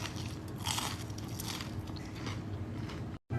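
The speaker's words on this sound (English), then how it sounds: "Now listen to this crunch." Crunchy panko-breaded air-fried food bitten and chewed close up, a steady dense crackling crunch that runs throughout before cutting off abruptly at the end.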